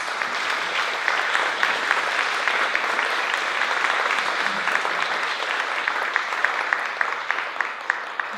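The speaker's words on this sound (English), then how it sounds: "Let's give her a big round of applause." An audience gives steady, prolonged applause after an evening talk on Chumash ethnobotany, many hands clapping in a dense, even wash with sharper individual claps popping out, moderately loud and without voices.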